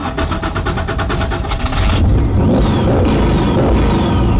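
An 800 hp 1967 Mustang Fastback restomod cranks with a rapid starter whir, then fires into a loud, rough, lumpy idle that rumbles steadily and close up.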